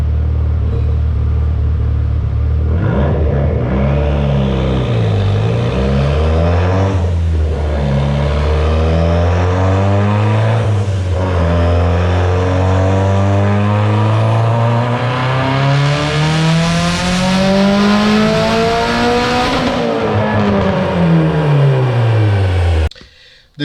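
A Mitsubishi Evo X with an FP black turbo running on ethanol flex fuel, close and loud, revving up through several gears with rising engine pitch and short dips at each shift, then cutting off abruptly.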